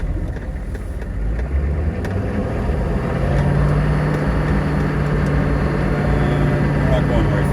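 A 1998 AM General Hummer H1 with 11k miles pulls away in low-range first gear, its engine drone rising and then holding steady and loud, with wind buffeting and someone talking over it.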